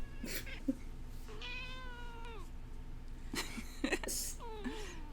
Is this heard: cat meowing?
yes